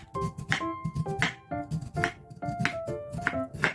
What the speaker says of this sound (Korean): 무를 먹기 좋은 크기로 자르고